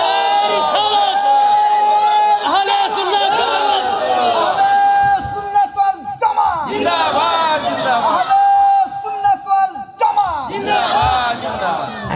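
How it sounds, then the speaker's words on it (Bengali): A sermon crowd shouting the takbir (Allahu Akbar) in loud, repeated collective calls, with a preacher's voice leading and the crowd answering in surging waves of chanting and whooping. "তাকবীর দেন"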